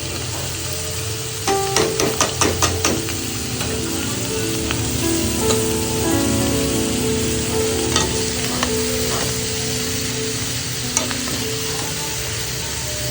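Washed bitter gourd goes into a frying pan with shrimp, bringing a quick run of clattering knocks and then a steady, close sizzle with occasional stirring scrapes.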